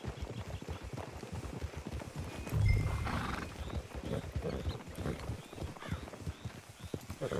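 Horses in the Red Dead Redemption 2 video game clip-clop along at a walk, a faint, steady patter of hooves with a brief snort partway through.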